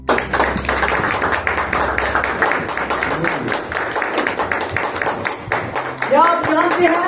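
A church congregation claps to welcome a preacher, brisk clapping mixed with a speaking voice and faint musical tones toward the end.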